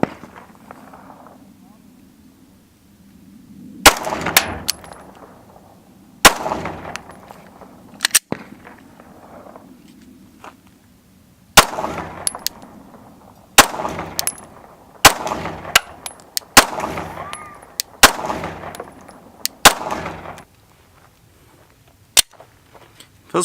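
A Glock Gen 5 pistol fires a string of sharp, loud shots at an outdoor range, spaced irregularly a second or two apart, with people talking between shots.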